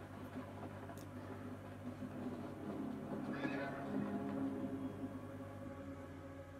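Horses whinnying loudly in a television battle scene, with a long neigh in the middle over a sustained dramatic background and faint hoof clatter, heard quietly and at a distance.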